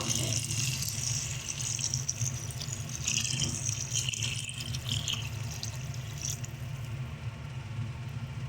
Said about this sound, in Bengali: এবারে এর মধ্যে দিয়ে দিচ্ছি পরিমাণ অনুযায়ী জল